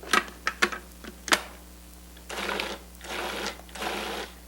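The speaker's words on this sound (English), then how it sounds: "pulse several times to break up the fruit" A Cuisinart DLC 7 or 8 series food processor pulses frozen pineapple chunks with sugar, first a few sharp rattling clacks of hard chunks against the bowl, then three separate loud bursts of whirring blade with brief pauses between.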